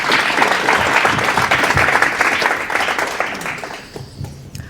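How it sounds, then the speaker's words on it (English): Audience round of applause at a tech leadership meetup, a loud, dense burst of clapping from a crowd that stays steady and then tapers off near the end. "everybody give Earl Mann a round of applause."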